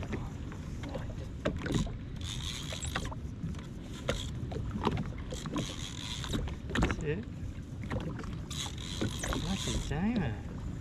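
A fishing reel winds in a kingfish from a boat off South Solitary Island, a mechanical whirring and clicking amid water slaps, wind and occasional voices.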